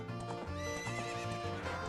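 Epona the horse from the video game Ocarina of Time gives a loud, tonal neigh and whinny over rhythmic clip-clop hoofbeats, close and clear with no talking.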